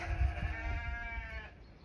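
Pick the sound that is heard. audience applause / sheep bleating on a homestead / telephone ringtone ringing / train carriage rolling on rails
sheep bleating on a homestead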